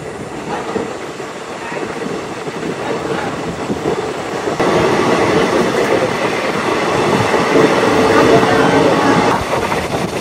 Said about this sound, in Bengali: ওদিক থেকে একটা ট্রেন আসছে